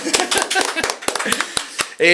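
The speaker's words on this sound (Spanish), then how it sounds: "Démosle un fuerte aplauso a la doctora Karen" A handful of people clap in scattered, sparse bursts to welcome a doctor joining a physiotherapy and medicine podcast, the claps uneven and fairly close, ending in a brief voiced sound.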